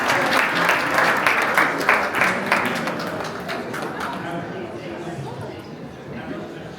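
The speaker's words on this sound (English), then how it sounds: "One more ripple of applause, please." Audience at a Hurlingham Club tennis event in London giving a warm round of applause, dense clapping that starts strong and gradually thins out and fades.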